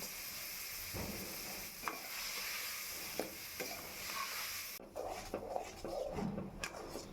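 Ridge gourd chutney ingredients fry in hot oil in a pan, giving a steady close sizzle with a few scattered clinks and stirring knocks, and no talking.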